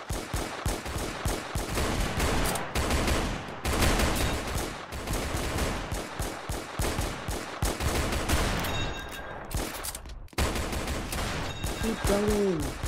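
Dense, continuous gunfire in a Roblox war game, with rapid machine-gun bursts and volleys of shots filling the scene almost without pause, loud and close, with brief shouts mixed in.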